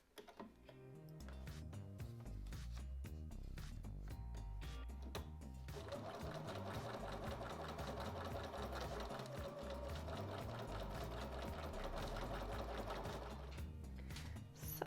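Sewing machine stitching with green top thread and a black bobbin while making a mini pocket junk journal, a steady rapid mechanical whir and ticking that runs close and continuous for the whole stretch.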